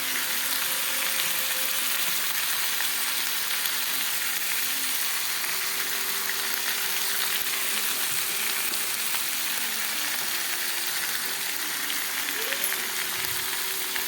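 Ginger and cumin paste with chili and turmeric powder frying in a pan, giving a steady, even sizzle that holds at a constant level from start to finish with no voices.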